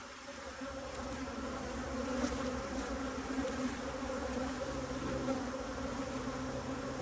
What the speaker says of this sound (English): already a million bees up here